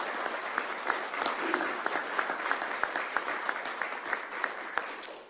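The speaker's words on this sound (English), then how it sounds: "Round of applause." Steady round of applause from people at a county council open session, even clapping with a few sharper claps standing out, continuing throughout without talk.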